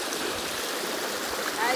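A hill-country river runs in a steady, close rush of flowing water, an even broadband wash with no breaks.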